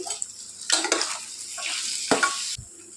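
Potato and carrot pieces are stirred and fried in a pan, giving scraping, clattering stirs over a soft sizzle, close and fairly loud.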